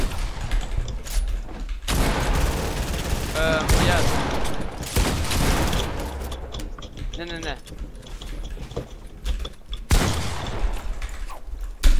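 Gunfire in a shooter video game rings out in bursts of shots and clattering weapon mechanics, loud and close, while players talk excitedly over it.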